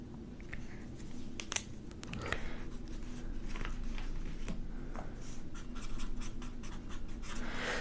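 Colored pencil in a burnt ochre shade scratching across paper at close range, a quiet run of short strokes and taps.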